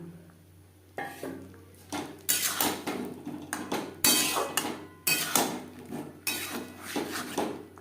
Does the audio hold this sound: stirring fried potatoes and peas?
yes